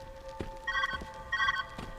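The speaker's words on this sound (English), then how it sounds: "Oh, the phone's ringing" A telephone rings in the puzzle game Viewfinder, two bright trilling bursts in a steady rhythm over a soft steady hum, with faint tapping footsteps between them.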